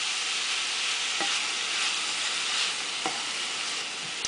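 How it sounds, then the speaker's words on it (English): Food sizzles steadily and loudly in a pan as it sautés, a constant frying hiss with a couple of faint utensil taps; no one speaks. "we're going to let this saute up till it's translucent"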